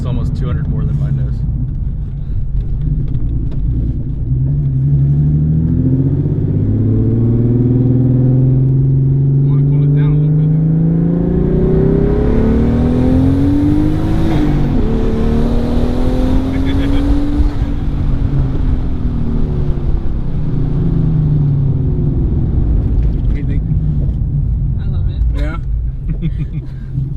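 A twin-turbo 3.7L V6 Mustang tuned on E85 revs hard, its engine note sweeping up and down in long rising pulls, loud and close, with faint voices underneath.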